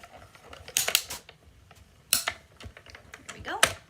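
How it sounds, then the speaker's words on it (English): A mini Stampin' Cut and Emboss die-cutting machine runs dies through with a series of close, sharp clicks and clacks in uneven bursts, with quiet rustling between them. "run our dies through our mini Stampin' Cut and Emboss machine"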